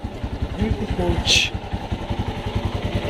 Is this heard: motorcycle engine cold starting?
yes